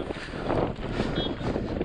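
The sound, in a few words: freezing cold mountain wind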